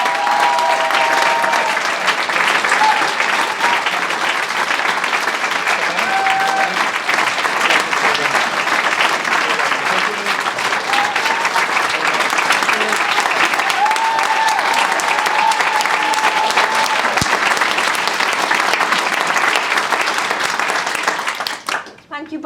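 A large audience at a charity impact event applauds and cheers for learners, dense sustained clapping with occasional whoops, fading out abruptly at the end.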